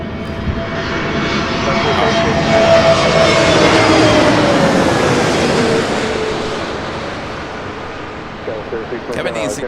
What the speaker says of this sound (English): Next arrival here on the north side. American Airlines Flight 1986, coming in from Reagan National.